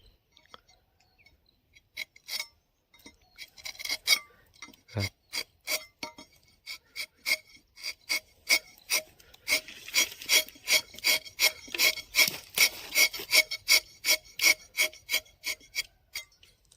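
A small, short-handled new knife scrapes the outer peel off in short rasping strokes, sparse at first and then a quick, steady rhythm of repeated scrapes close by.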